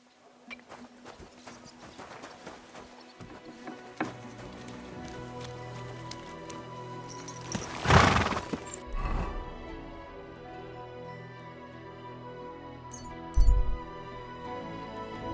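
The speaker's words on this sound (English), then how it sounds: "Easy, good horse." In the medieval video game Kingdom Come Deliverance 2, a horse's hooves clip-clop steadily at moderate distance, with a louder snort or whinny burst midway and another brief one near the end, over soft ambient background.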